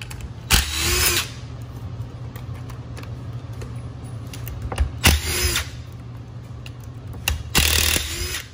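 A power drill whirs in three short, loud bursts a few seconds apart, backing screws out of a 500-hour aircraft propeller gearbox during a prop-strike inspection, with quiet mechanical clinks between bursts.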